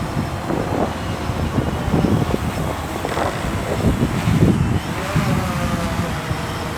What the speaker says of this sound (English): Winds are about 20 kilometers per hour, gusting to about 35